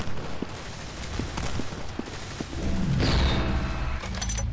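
Laser weapons fire and explode in the sci-fi game CSS Sci Fi 3: Hardwired: a rapid series of sharp shots followed by a louder, rumbling blast with a descending whine, loud and dense throughout.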